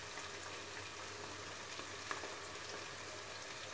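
Ginger, green chilli and garlic frying in a pan, giving a steady, even sizzle with a faint crackle throughout and a few light clicks near the end, with no voices.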